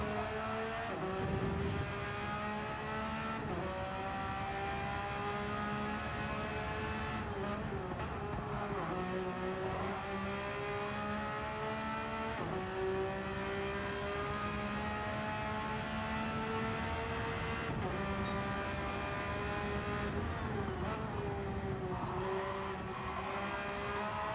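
A race car laps a track during practice on soft tyres, its engine note climbing through the gears and dropping on the downshifts, heard steadily and at middling distance without a break for the whole run.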